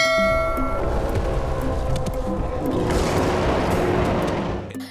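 Ringing tones fade out, then a deep, loud explosion, the blast that wiped out the dinosaurs, rumbles and swells across the second half before tapering away at the end.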